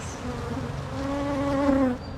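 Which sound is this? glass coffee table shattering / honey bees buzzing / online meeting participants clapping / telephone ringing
honey bees buzzing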